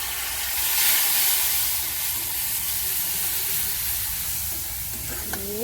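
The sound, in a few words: cumin and spice paste frying in a pan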